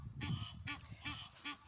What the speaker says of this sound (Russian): птицы улетают, расправив крылья